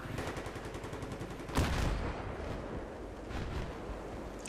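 A tank blasting away in a Battlefield 3 match, with a heavy boom standing out over continuous rattling gunfire and battle noise, then later thuds in the background.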